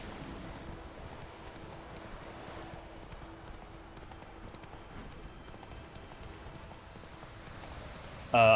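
Roach the horse's hooves clip-clopping in The Witcher 3, a steady soft trot under faint wind noise that runs nearly throughout, ending in a brief louder burst.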